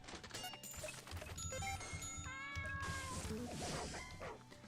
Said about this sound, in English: it's standard that we put the sound of the cat and the dog